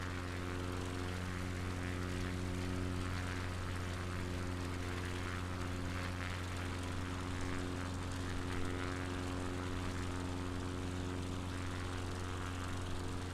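A propeller airplane drones steadily above a small airfield on the UK coast, a constant, even engine hum that lasts the whole time with no other sounds.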